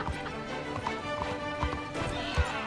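A horse gallops in the Red Dead Online video game, its hooves clip-clopping in a steady, fairly close rhythm under game ambience with no voices.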